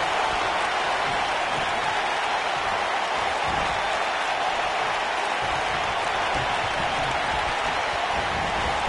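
Virtual arena crowd in the WWE 2K19 wrestling game, recreating WCW Halloween Havoc '91, cheers in a steady, dense roar that fills the whole clip with no letup.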